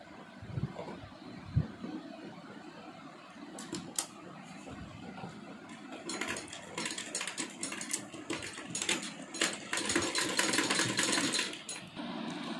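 A sewing machine stitches yellow tassels onto a kurti sleeve, starting with scattered handling clicks and short stitching bursts, then running in longer, steady rattling stretches close by, with no talking.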